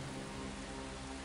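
Steady rain in the strategy video game Earth 2150, a dense, even hiss of falling drops that stays constant and fairly close throughout, with no other sounds standing out.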